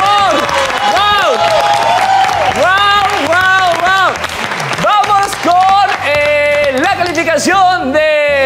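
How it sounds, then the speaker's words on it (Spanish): A talk show audience applauds and cheers for a guest named Daniela, with continuous clapping and whoops under loud, sung or musical voices that rise and fall. "¡Un aplauso para Daniela, por favor!"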